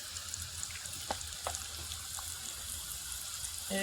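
Liver sizzling in a pan of fried onions, a steady close frying hiss with a few soft scrapes and taps, no voices.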